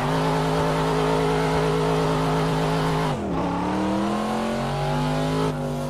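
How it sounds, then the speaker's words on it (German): A Corvette C7 Stingray in the Assetto Corsa racing game roars at high revs through a kickdown with wheelspin, its engine note dipping briefly near the middle before climbing again, loud and continuous with no talk. "Kickdown hier mit durchdrehenden Rädern."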